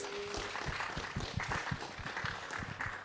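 Studio audience on a Normandy radio set applauding a musical guest at a traveling festival, steady dense clapping throughout with a faint voice briefly at the start.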